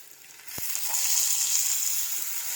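Ginger garlic paste dropped into a pan of golden fried onions for a country chicken curry, a sharp clack followed by a rising, steady close sizzle that carries on alone.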